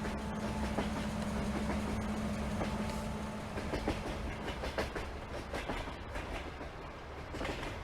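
A long freight train of many hopper cars rolls past in Farming Simulator 22, a steady rumble with a low drone and rhythmic clickety-clack of wheels over rail joints, loud and sustained throughout.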